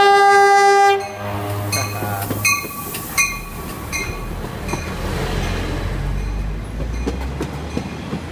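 A train passes beside the tracks in Austin, Texas, its horn sounding in long sustained blasts at the start, then rolling wheel rumble and clatter continue steadily and fairly loud to the end.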